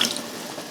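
Water is poured into a cooking pot of Cameroonian pepper soup, giving a brief, steady splashing rush with no voices.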